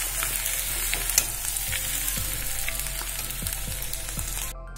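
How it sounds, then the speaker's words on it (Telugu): Vegetables frying in an iron pan while being stirred, a continuous moderate sizzle with repeated soft spatula scrapes and one brief knock. "ఈ వెజిటబుల్స్ని ప్రాపర్గా కలయబెట్టుకుంటూ మనం మంచిగా ఫ్రై అయ్యే వరకు వేయించుకోవాలి"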